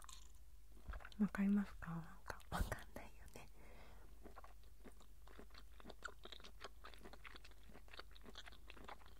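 Soft, close chewing and biting of a chewy konjac snack in a quiet room, with brief crunchy bites and a few whispered words at the start.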